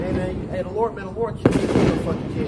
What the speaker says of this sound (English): right now, you can hear the fireworks going off